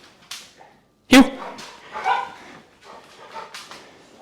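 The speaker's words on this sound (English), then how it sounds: "you might have heard a wee cry there coming from our other room because the other two dogs are waiting in the turn" Dogs waiting in another room cry and give a sharp bark, muffled and somewhat distant, mixed with whimpers and yips while a person speaks in a kitchen during dog heel training.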